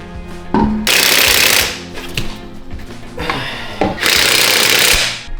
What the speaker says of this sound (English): Let's screw the wheel on.